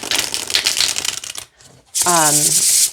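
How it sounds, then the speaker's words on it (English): Life Code tarot cards being shuffled by hand: a crisp riffling flutter for over a second, a brief pause, then another burst of card shuffling, close and loud, with a short spoken sound overlapping the second burst. "I'll show you how it shuffles, then we'll pull a card and read from the guidebook."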